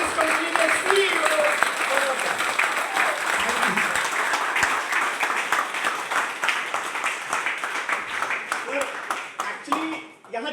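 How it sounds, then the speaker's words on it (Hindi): A large audience at a Lucknow company success program applauds loudly and steadily, dense clapping running the whole time with a few cheers and voices mixed in. "खड़े होकर के जोरदार तालियां प्लीज"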